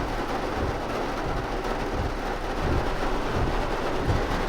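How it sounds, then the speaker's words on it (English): Heavy rain pours down steadily alongside low, rolling thunder during a July outing, a dense, even roar with no voices. "apparently we're getting some rain. Heavy rain, that is."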